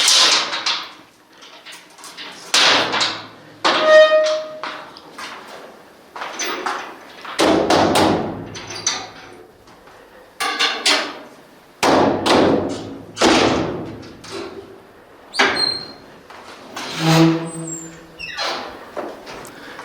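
Tomb keeper banging on the door of an ancient Egyptian royal tomb at the foot of a stairway, a series of loud, irregular thuds and knocks spread over about twenty seconds with no talk.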